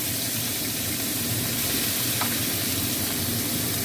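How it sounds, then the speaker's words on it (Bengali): Chopped onion goes into hot oil left over from frying potatoes and sizzles in a steady, moderate hiss with a faint crackle, close by, with no talking. "এই আলু ভাজা এই তেলেতেই আমি এই পেঁয়াজ কুচনোটা দিয়ে দেবো"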